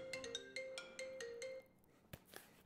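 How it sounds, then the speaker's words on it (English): A phone ringtone plays a bright, repeating electronic melody for about a second and a half, then cuts off, followed by a couple of faint knocks or handling sounds, fairly quiet and near. "I got a phone call here"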